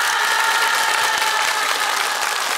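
Loud, dense studio audience applause at a Korean TV family game show, steady broadband clapping filling the whole stretch with no talk over it.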